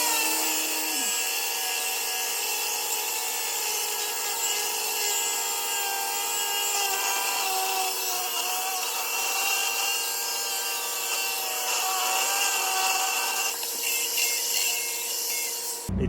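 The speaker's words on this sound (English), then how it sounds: "burring off some weld that he put on by mistake in the wrong place" An angle grinder burrs off a misplaced weld on an old cultivator part, giving a loud, steady, continuous grind that runs unbroken from start to finish with no talking.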